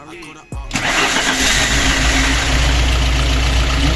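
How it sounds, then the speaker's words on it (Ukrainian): A car engine cranks and catches after a brief quiet, then settles into a steady, even idle with a deep low rumble, close and loud, following replacement of faulty fuel injectors; a voice speaks briefly before it starts. "І машинка запрацювала."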